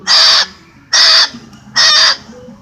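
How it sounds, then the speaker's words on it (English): Pet bird giving three loud, harsh squawking calls evenly spaced about a second apart, close by, with quiet background between calls. "Very pretty bird."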